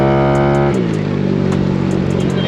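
A Yamaha Mio i 160cc scooter engine, street-tuned with an Aracer RC Mini 5 ECU, holds a high rev then drops to a steady, close, loud idle with a rough throbbing note, no talking.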